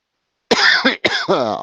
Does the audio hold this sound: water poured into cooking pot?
no